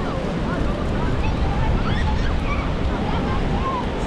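Ocean surf at the beach on Ilha Comprida, with steady rushing waves and wind noise on the microphone filling the whole stretch, loud and continuous, while faint voices sit underneath.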